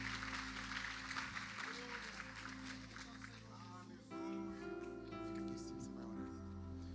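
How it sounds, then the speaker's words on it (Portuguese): A church congregation claps together over sustained, held musical tones, the applause dense at first and then thinning as the music carries on at moderate, slightly distant volume. "Aplauda e glorifique o nome do Rei Jesus e fique de pé no seu lugar"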